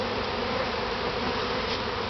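Honey bees swarm thickly around an opened top bar hive during a honey harvest, their buzzing a dense, loud, unbroken drone up close.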